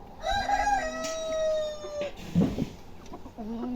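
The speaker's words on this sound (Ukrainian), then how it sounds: "Це курчата, да, ось налетіли" Chickens, chicks and a rooster vocalize up close at feeding time, with drawn-out crowing-like calls and short clucks, alone without talk.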